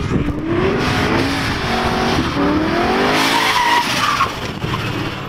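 A Mustang drift car's tires squeal in long, wavering howls over a loud, roaring engine. The squeal rises and falls continuously for several seconds before easing at the end.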